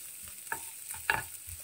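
Ingredients sautéed in a pan while making Turkish hand-rolled börek, giving a soft frying sizzle with a few scraping stir strokes from a utensil, close by and without talk.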